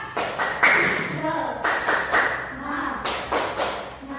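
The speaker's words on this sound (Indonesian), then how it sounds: "Tepuk semangat." A group does the rhythmic 'tepuk semangat' spirit clap, sharp claps and thumps coming in short patterned bursts, mixed with voices chanting along in a room.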